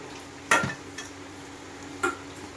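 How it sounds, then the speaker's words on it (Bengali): Fried potatoes dropped into a pot of braised meat and stirred: a sharp clatter near the start, then a lighter scrape, and another spoon knock toward the end, all close against a quiet kitchen background. "তো এই দিয়ে দিলাম দিয়ে আমি আরেকটু নেড়ে চেড়ে নেব"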